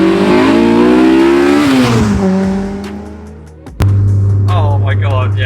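Honda EK9 Civic Type R with a 260 bhp naturally aspirated VTEC engine revs loud and close, climbing to a high scream, dropping off, then settling into a steady droning idle; voices talk briefly over it.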